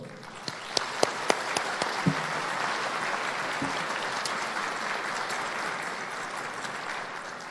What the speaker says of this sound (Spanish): para quien voy a pedir un caluroso aplauso